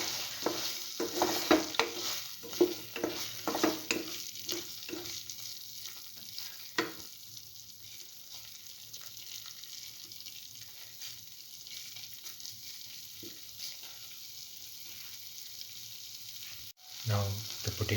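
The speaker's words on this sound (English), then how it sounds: "And let it fry." Potato and coconut stir fry sizzles in a pan with a loud crackling hiss and stirring scrapes early on, settling into a steady, softer frying sizzle, close and without talk.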